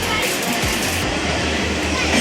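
Inside a moving Mumbai train, a loud and continuous rumble of the running carriage is heard, with low rattling and clattering from the wagon and a rush of wind throughout.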